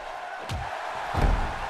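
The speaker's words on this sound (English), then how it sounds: "Blake drops the elbow." A wrestler's elbow drop lands in WWE 2K17, giving two dull thuds about three-quarters of a second apart over a steady crowd roar.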